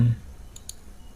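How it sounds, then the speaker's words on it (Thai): A computer mouse clicks twice in quick succession, short and sharp, on a software dialog's OK button, faint against a quiet room after a brief trailing voice at the start. "เลือกเอฟเฟกกล่อง แล้วคลิกปุ่มตกลง"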